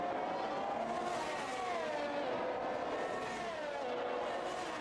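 Formula 1 race cars in a racing video game, set on the Azerbaijan circuit, with a steady high-pitched engine whine that rises and falls as the cars hold speed, continuous and fairly close, with no talk over it.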